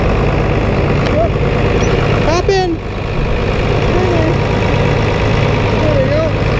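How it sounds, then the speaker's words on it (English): A farm tractor engine idles in a steady, close, low rumble, while someone speaks a couple of words over it. "This is a great tractor."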